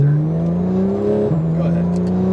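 A GT3 race car at the Las Vegas track accelerates hard through its gears. Its loud, steady engine drone climbs, then drops briefly at a gear change before climbing again, heard close from on board.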